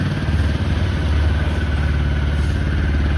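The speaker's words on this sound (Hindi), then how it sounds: "अब यहाँ पे स्टार्ट करके आपको हम एग्जॉस्ट नोट का आइडिया दे देते हैं एक बार" A TVS Apache RTR 160 4V normal edition motorcycle idles through its stock exhaust with a steady, low, throbbing burble, close and constant with no voices.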